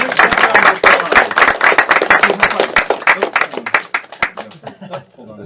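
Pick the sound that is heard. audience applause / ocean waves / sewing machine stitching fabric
audience applause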